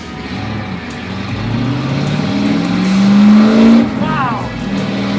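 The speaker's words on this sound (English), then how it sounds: "Now it's a race car." A Chevy Camaro Z28 1LE race car engine fires up and revs, its pitch climbing and swelling loudly before dropping back to a rough idle, with a brief tire-like squeal near the end.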